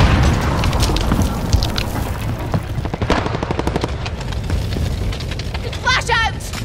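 Charge detonating in a Call of Duty Modern Warfare Team Deathmatch match on Talsik: heavy booms and rapid gunfire bursts in a dense, loud battle mix, with voices calling out over it.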